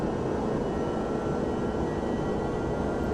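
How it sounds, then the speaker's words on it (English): Steady broadband roar of a Boeing 767-300's jet engines in the FSX flight simulator during takeoff, a continuous low rumble with hiss, constant and unbroken throughout with no talk. "the engine sounds for me are not that good."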